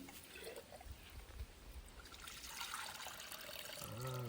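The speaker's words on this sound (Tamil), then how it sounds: "ஐஸ் கட்டி போட்டு ஊத்து" Nannari sarbath drink, mixed with Bacardi rum, is poured over ice cubes outdoors in a village, a faint steady trickling splash that grows fuller toward the end, with a voice speaking briefly at the close.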